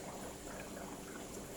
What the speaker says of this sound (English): 10 minutes worth of fresh water going into the system